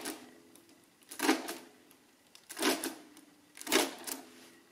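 Comptometer 992 mechanical calculator adding numbers: three distinct whirring, clattering mechanical cycles about a second and a quarter apart, close and moderately loud, with a faint hum between them.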